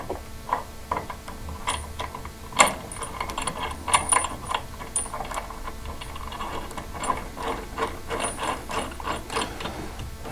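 Nut and single washer are removed from a striker bolt for ArmorTech doors on a 2022 Polaris Ranger 570, giving faint, close, irregular metallic clicks and ratcheting ticks.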